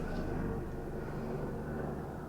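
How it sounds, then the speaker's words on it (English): Steady low rumble of aircraft passing overhead, helicopters or planes in the distance, a continuous drone lasting the whole stretch with no talk over it. "Can I really express how much I hate the number of helicopters and planes that fly over?"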